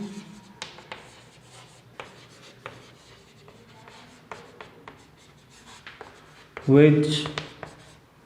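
Pen or chalk taps and scrapes on a board during a physics lesson, with crisp strokes at irregular intervals under a teacher's speech, ending with a brief louder rub.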